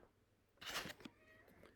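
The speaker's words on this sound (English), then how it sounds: "my cat's making noise now over here" A cat meows once in a short, moderately loud burst with a brief follow-on sound, then quiet room tone, recorded indoors nearby.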